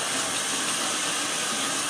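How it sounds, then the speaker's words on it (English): Tap water runs steadily over a heat pump filter held in a small sink, a loud, close, continuous hiss and splash with no pauses. "just by running water through and"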